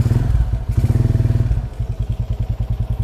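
A GL100 Black Mamba motorcycle is started with its starter, and the engine catches and settles into a loud, close, steady thumping idle with rhythmic pulses.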